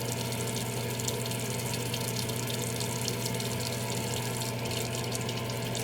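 Tap water running steadily into a sink during an at-home shave, a constant close gushing hiss with no pauses and no voices.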